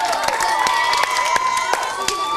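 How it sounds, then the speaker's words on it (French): Studio audience at a French-language family game show applauding the two teams, a dense, steady wash of clapping and cheering with sharp individual claps standing out throughout. "On les applaudit plus fort, je vous prie."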